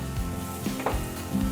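Chopped onions fry in oil for a gongura chicken curry, giving a soft, steady sizzle with faint clinks of a utensil stirring in the pan.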